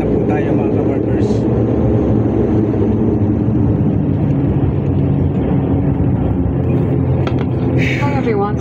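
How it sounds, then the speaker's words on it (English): Inside an airplane landing at Ninoy Aquino International Airport in Manila, a loud, steady engine and cabin roar continues throughout, with a brief higher whine near the end. "Lalanding na po tayo sa Ninoy International Airport na po tayo mga kabarbers"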